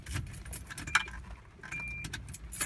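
Keys jangle close by, with brief metallic clinks at irregular moments, over a low steady rumble as a car is started up to check that everything works after a bulb relay failure.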